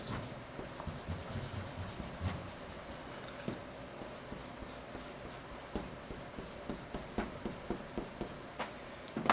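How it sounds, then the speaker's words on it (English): Hard eraser rubbing pencil construction lines off drawing paper, a close, continuous scrubbing with rapid short back-and-forth strokes, quiet and steady throughout with no talk. "with the hard eraser, you can come in and remove some of your construction lines"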